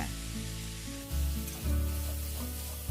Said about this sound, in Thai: แล้วก็ผัดให้หอมหัวใหญ่สลด